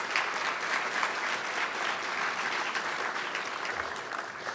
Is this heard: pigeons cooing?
no